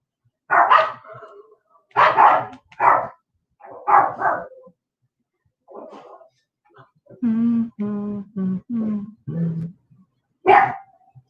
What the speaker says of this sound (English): My dogs are happy to see all of you as well.